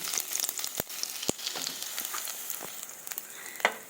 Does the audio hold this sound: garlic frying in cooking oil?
yes